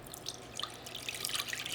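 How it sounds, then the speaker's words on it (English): Soaked rice and cinnamon are poured through a fine mesh strainer into a bowl, giving a soft, steady trickle and patter of liquid that is close and fairly quiet, with no talk. "we're going to strain it through a fine mesh strainer"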